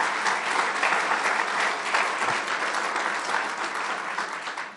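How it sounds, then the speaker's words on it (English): Crowd applause at a public ramp opening ceremony near the Peace Bridge, steady full clapping from many hands sustained evenly throughout. "let's give him a big round of applause"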